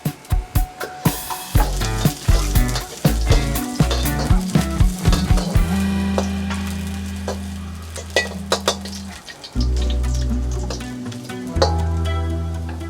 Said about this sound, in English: Stir fry the ginger first.